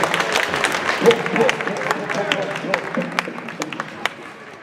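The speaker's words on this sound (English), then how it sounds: "Let's give them a round of applause, ladies and gentlemen." Audience applause at a school assembly, a moderate patter of clapping with scattered sharp claps, crowd murmur and voices underneath, tapering off near the end.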